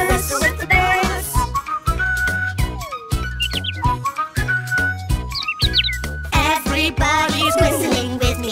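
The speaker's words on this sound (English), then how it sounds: "Let's whistle with the birds." Whistled tones rise and fall in a cheerful tune alongside chirpy bird-like calls, set over a bouncy musical backing in a children's farm sing-along song.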